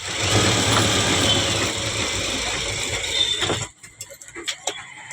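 A sewing machine stitches a lining onto silk cotton fabric with a steady, close mechanical whir for several seconds, then stops abruptly, leaving scattered light clicks and taps.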